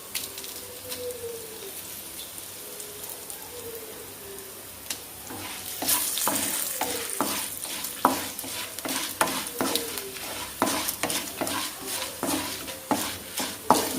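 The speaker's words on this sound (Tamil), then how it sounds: "மிளகாவும் நல்லா கொஞ்சம் ஃப்ரை ஆகட்டும்" Dried red chillies sizzle in hot oil in a pan, a steady soft crackle broken by repeated scraping stirs with a utensil that grow busier and louder toward the end.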